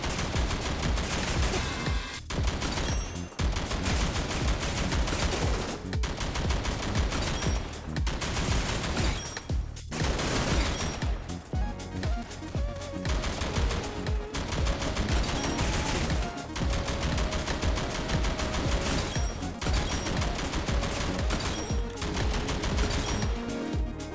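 Automatic gunfire in a shooter video game, a loud, dense, almost unbroken stream of rapid shots with only brief gaps between long bursts.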